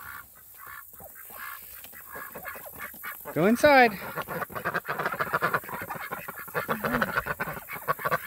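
Ducks on a homestead pond honk and quack in a loud burst near the middle, with more scattered calls and a voice speaking over busy outdoor background noise.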